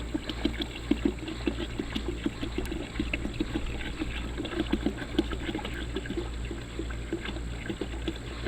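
A gallon of spring water poured into a container for homemade wine, a steady gurgling glug with rhythmic pulses over a low constant hum, close and alone.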